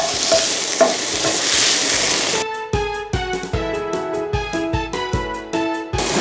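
Shrimp cooking in a pan with water and dissolved starch, a loud bubbling sizzle at first, then rhythmic scraping and clanking of a spatula stirring against the pan, close and without talk.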